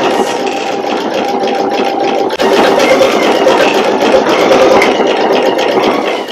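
A Pfaff Creative Icon 2 sewing machine runs continuously while stitching a background fill, a steady, close mechanical whir and rattle with a brief dip partway through and no talking.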